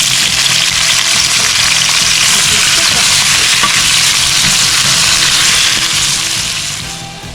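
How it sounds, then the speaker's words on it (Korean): Raw sliced potatoes stir-fry in a little cooking oil in a pan, a loud, steady sizzle and crackle with stirring scrapes running throughout, fading slightly at the end. "조금 이제 감자 넣어서 볶는 거예요."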